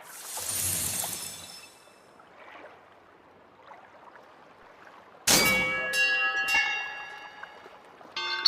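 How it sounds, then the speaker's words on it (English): In the video game Living Legends, a ferry bell on a pier is struck. It gives a bright metallic clang that rings on and fades, followed by a few quicker strikes, after a brief watery splash and a quiet stretch. "Please ring the bell for the ferry to the island"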